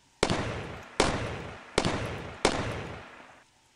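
Four sharp, loud gunshots from the Brothers in Arms video game, evenly spaced about a second apart, each cracking hard and ringing out into a fading echo, with no talk over them.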